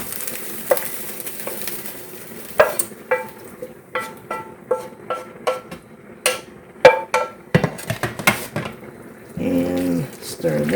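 Diced ham is stirred into a ham and cheese casserole mixture with a spoon, giving a series of repeated thick, wet scraping knocks in an uneven rhythm, close by, with a voice speaking in places.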